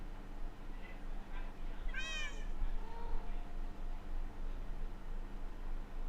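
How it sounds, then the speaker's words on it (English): A cat in the Minecraft video game gives one clear, close meow, followed by a shorter softer mew, over a faint steady hiss with no talk. "So you've got cats all in there."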